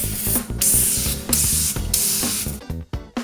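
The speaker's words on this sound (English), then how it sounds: "Just getting the aerosol spray, and I'm going to spray it on again just like before." A can of cleaner-degreaser spraying in several loud, close bursts of hissing aerosol with brief gaps between them, no talking.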